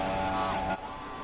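F1 2016 race car engines in a PS4 video game at the Italian GP, a loud steady high-pitched whine with harmonic tones that drops off abruptly near the end, leaving a quieter engine drone.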